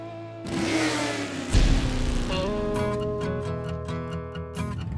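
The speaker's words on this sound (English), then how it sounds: "You can see they're revving for a ride." Several motor trike engines rev loudly nearby at an outdoor trike festival, throttles climbing and dropping in repeated bursts over a steady idling rumble.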